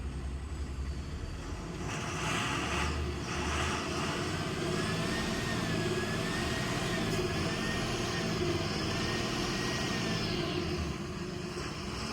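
A Tata 1822 IntrCity SmartBus diesel engine with a six-speed manual transmission idles and is revved, giving a constant loud low drone with a rising and falling whine over it, close by and without talk.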